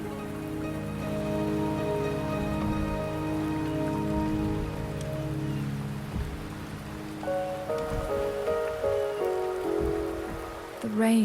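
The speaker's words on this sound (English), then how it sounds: "The rain is subsiding, and the sky will soon clear." Steady rainfall in the video game Wuthering Waves, a continuous soft patter on surfaces that runs throughout at moderate level, with tonal game music layered on top.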